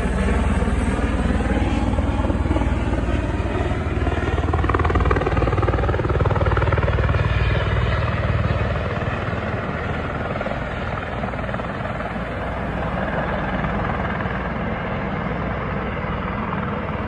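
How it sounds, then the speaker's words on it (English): A helicopter flies overhead, a steady loud rotor chop and engine drone that swells and shifts in pitch as it passes, continuous throughout with no speech. "I'll show a little part of one of the helicopters."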